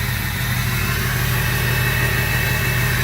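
Steady, loud rumble of a 2006 Ford F250 Lariat 4x4 Powerstroke diesel with a 4-inch exhaust idling close by, a constant low throb with no revving or speech.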